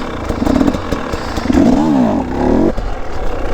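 A dirt bike engine revs hard in second gear during a wheelie, the close, loud engine note rising and falling with throttle changes.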